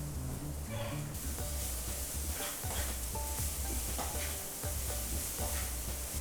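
Ivy gourd (tindora) cooks in a pan as a coconut, coriander and mint mixture is added, giving a dense, constant sizzle with scattered stirring clicks and scrapes, close and fairly loud throughout.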